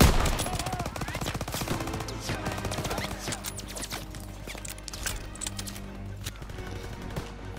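Machine gun fire rattles through a Call of Duty: WWII D-Day beach assault, a dense, continuous stream of rapid shots with scattered louder impacts, steady and fairly close throughout.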